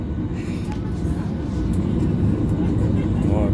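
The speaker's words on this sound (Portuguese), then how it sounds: "Ó, agora deu pressão nas turbinas." Airliner jet turbines spooling up for takeoff as heard from inside the cabin, a steady broad roar that slowly grows louder, with no talk over it.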